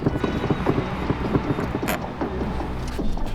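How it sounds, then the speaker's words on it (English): Plastic clicks and creaks from a Honda Fit's shift knob being twisted and worked loose, close and moderately loud, with a brief sharp snap near the end. "First thing is first, let's take out the shift knob."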